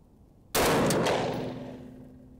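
A single sharp gunshot fired over a chronograph cracks out loudly and close, then its echo rings and fades slowly over about two seconds.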